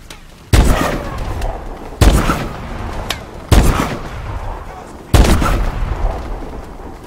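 Four heavy energy-beam sniper rifle shots from Call of Duty: Advanced Warfare ring out at steady intervals of about one and a half seconds, each a sharp loud blast with a rumbling tail and no talk over it.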